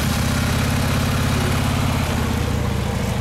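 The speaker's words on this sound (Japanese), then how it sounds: "エンジンを聞かせてください。" A Harley-Davidson Dyna Low Rider FXDL with a one-off custom muffler idles close by, giving a steady, loud, deep rhythmic thumping that runs without a break.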